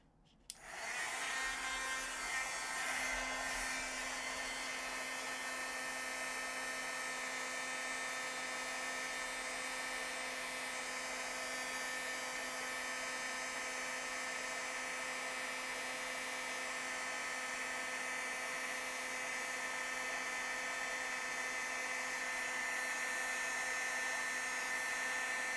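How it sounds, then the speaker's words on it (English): A heat gun blows continuously as it melts embossing powder, a steady whirring hiss with a fixed whine that starts abruptly and holds evenly throughout, close by and with no talk. "And then what I'm going to do is grab my heat gun."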